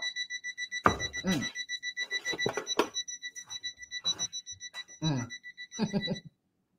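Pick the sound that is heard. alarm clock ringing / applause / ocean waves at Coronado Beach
alarm clock ringing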